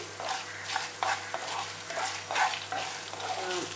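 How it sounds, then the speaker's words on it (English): Curry leaves and gram dal crackle and sizzle in hot oil, with irregular popping and stirring scrapes over a steady frying hiss. "Now I'm going to fry these till it turns nice and crispy."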